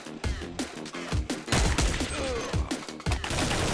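Rapid bursts of gunfire from Counter-Strike 1.6, sharp repeated shots in quick automatic strings with short pauses between volleys, loud and close with no talking.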